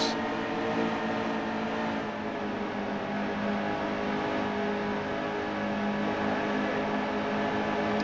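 A race truck engine in the NASCAR Heat 2 video game at Charlotte drones and revs continuously, a buzzing, steady high-pitched engine note with slight throttle variations and no talk.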